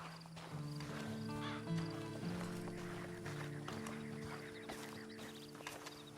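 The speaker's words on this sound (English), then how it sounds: "And you better get on this horse." Horse hooves clip-clop and a horse whinnies in the video game Red Dead Redemption 2, set against a sustained tonal music bed with scattered footsteps and small movement noises.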